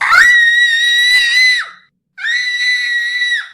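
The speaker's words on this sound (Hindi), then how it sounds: "एलेक्सा लोरेन के पास बेड से उठकर चिल्लाती हुई" A girl getting out of bed lets out two long, loud, high-pitched screams separated by a brief breath, sustained and piercing, with nothing else heard.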